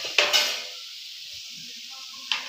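Sugar tipped into a pan of cooking carrot halwa gives a short grainy sizzle and scrape near the start, fading to a quiet simmer, then a brief second rustle at the end.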